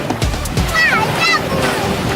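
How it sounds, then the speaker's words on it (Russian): Sea waves washing up on a beach, soft splashes and surf heard under the voices of a child and an adult talking nearby. "Волна, смотри, волна к тебе. Вот волна."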